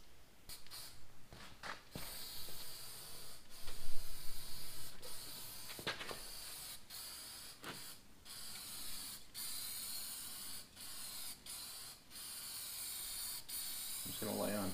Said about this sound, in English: light coats of primer here, and then I'll probably do at least a good couple coats of paint.